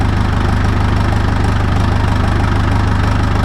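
A heavy equipment diesel engine rumbling hard with a rapid, steady low throb, loud and close, as it is run to blow out soot after sitting in the rain.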